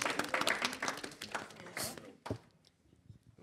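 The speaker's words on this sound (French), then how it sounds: "On peut l'applaudir." Small live podcast audience clapping for a guest, a brief burst of scattered handclaps with some voices mixed in that thins out and fades after about two and a half seconds.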